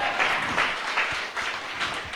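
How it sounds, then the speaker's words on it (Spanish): Applause from a church congregation praising the Lord, a steady wash of many hands clapping at moderate loudness for about two seconds, with no clear talk over it. "Dale un aplauso con gozo al Señor."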